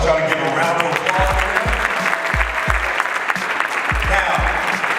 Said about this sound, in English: I want y'all to give him a round of applause.